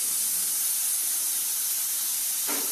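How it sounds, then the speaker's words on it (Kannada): A pressure cooker holding avarekalu (field bean) sambar vents steam in a loud, steady, close hiss that continues without a break, with a short extra burst near the end. "ಈಗ ಒಂದು ವಿಜಲ್ ಬರ್ತಾ ಇದೆ"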